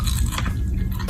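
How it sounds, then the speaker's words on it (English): A single loud, close crunchy bite into golden panko-fried tofu, with dense crackling texture and no talk. "Ah, such a nice crunch."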